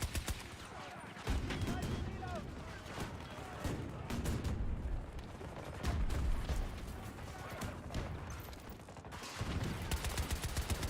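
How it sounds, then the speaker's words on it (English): Gunfire in a video game, rapid sharp cracks and bursts of shots coming in clusters from a distance below, steady and fairly loud throughout, with some talk mixed in. "Those shots coming from down there."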